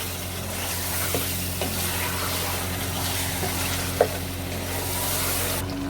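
Chicken frying with yogurt in a pot, a low continuous sizzle and bubbling with faint occasional clicks of stirring, no voices.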